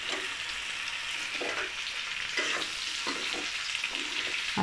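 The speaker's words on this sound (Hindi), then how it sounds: "अब देखिए हम इसमें आलू को फ्राई करेंगे।" Potato pieces fry in a pan for a dry soya-methi-aloo sabzi, giving a steady, close sizzle with occasional soft stirring scrapes throughout.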